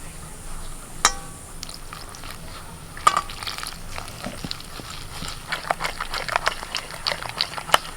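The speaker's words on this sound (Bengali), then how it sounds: "এবার জল দিয়ে ফেটিয়ে নেব" Batter with water, ground cumin and black pepper being whisked for a crispy chilli baby corn coating, a steady scraping and tapping of whisk against bowl with a few sharp clinks, close and without talk.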